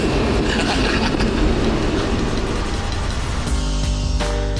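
A loud, sustained Audi R8 sports car engine roar that runs steadily, then settles into a deeper, humming tone near the end.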